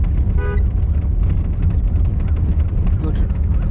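A training car's horn gives a short honk, then a fainter second toot, over a steady engine rumble while people talk inside the car on the road.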